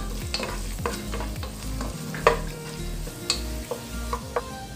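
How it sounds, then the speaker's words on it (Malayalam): Sliced green chillies and curry leaves frying in hot coconut oil, a close crackling sizzle with utensil scrapes and clinks against the pan. "ഇനി ഇതിലേക്ക് 6 പച്ചമുളക് സ്ലൈസ് ചെയ്ത് വെച്ചത് ഇട്ട് കൊടുക്കാം."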